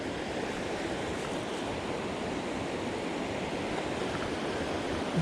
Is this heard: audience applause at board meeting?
no